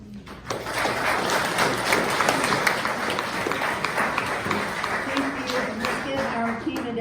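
Audience applause at a Kendall County commissioner candidate forum, a dense steady patter of many hands clapping that starts after a brief lull and carries on at moderate volume, with some voices underneath.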